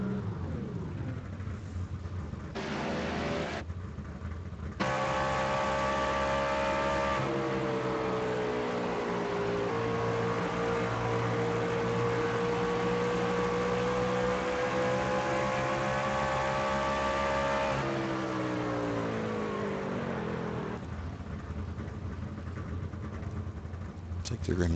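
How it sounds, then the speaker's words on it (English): Race trucks on an oval track at Iowa, a continuous loud engine drone with pitch slowly rising and falling as the trucks pass, heard under steady commentary from people talking. "Sound package, I think, sounds pretty decent on these trucks"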